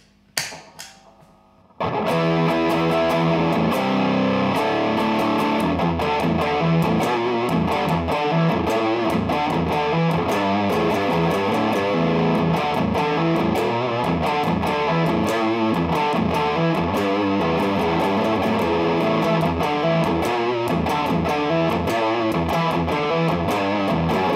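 An electric guitar runs through a Bob Burt Multi-Drive distortion pedal set to maximum gain. After a brief quiet pluck it gives a loud, saturated, sustained riff with dense harmonics and steady chugging strums, played alone without talk.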